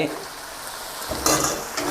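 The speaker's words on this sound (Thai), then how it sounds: "ผัดคลุกเคล้าให้เข้ากันเลยครับ" Steady sizzling of chicken and cashews stir-frying in a pan, with the scrape and clatter of a utensil stirring, louder bursts near the end.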